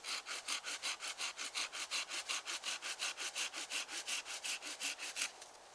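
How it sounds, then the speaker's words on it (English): A Bahco handsaw cuts through wood in about twenty steady, evenly paced back-and-forth strokes, close and loud, and stops near the end. "I'm going to saw that off"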